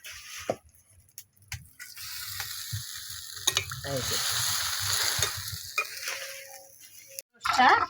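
Fish fries and is stirred in a pan, a crackling sizzle swelling in the middle, broken by clinks and scrapes of the spatula against the pan, with no one talking.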